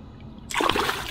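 A released redfish splashes back into the water, breaking a quiet moment with a short burst of spray and splatter that quickly settles.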